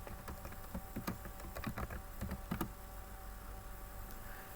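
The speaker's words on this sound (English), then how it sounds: "So I'll put in my username and I'll put in my correct password." Quiet keystrokes on a computer keyboard as a username and password are entered at a login screen, an irregular patter of soft clicks in short runs over low room hum.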